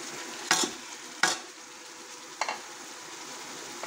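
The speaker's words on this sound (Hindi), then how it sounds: "चम्मच चलाते रहेंगे ताकि हमारे टमाटर भी मैश हो जाएं और मसाला नीचे भी ना लगे।" Spices and tomatoes frying in a pan for Pakistani-style lobia dal, with a soft continuous sizzle broken by three sharp spoon scrapes and clinks against the pan, close and clear.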